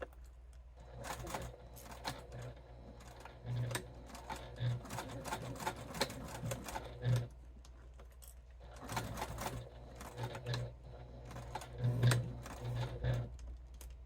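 A sewing machine runs back stitches on a bifold wallet in three separate bursts of rapid needle clatter, each a few seconds long, with quiet pauses between.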